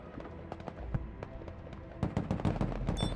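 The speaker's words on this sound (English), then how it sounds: "Suppressive fire!" Gunfire in the military video game Broken Arrow: scattered sharp shots and short bursts, fairly distant and quiet at first, then thickening into a denser volley in the final second.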